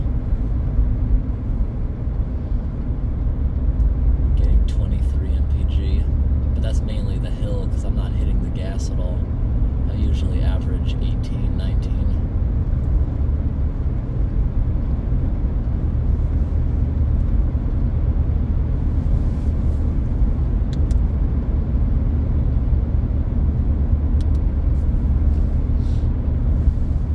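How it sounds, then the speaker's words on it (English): Car driving slowly along the snowy Kancamagus Highway, a steady low engine and road rumble throughout at constant level, with someone talking over it. "I'm just driving these roads right now for my own enjoyment."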